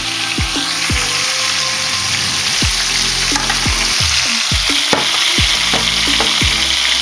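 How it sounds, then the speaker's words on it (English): Liver and onions fry in a pan with a loud, continuous sizzle for several seconds, with scraping and stirring strokes against the pan throughout. No one speaks. "Let that simmer just a little bit more."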